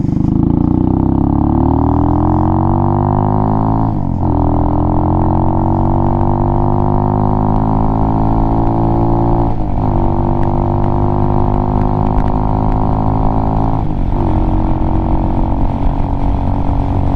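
A Venom Ghost chopper motorcycle's exhaust roars loudly and steadily at close range, its engine note rising and settling with three brief throttle dips and recoveries across the run.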